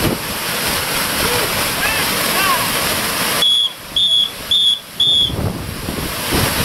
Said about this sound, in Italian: Un fischio da stop.